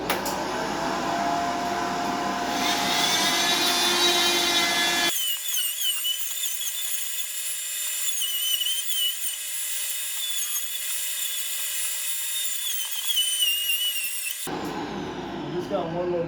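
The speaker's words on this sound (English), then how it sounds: "vacuum on." A vacuum cleaner runs loud and close during a ceiling light and HVAC update, holding a steady high whine with a sharp drop in tone partway through before rising again near the end.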